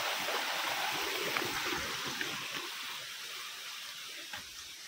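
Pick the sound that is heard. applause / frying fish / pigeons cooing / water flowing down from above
water flowing down from above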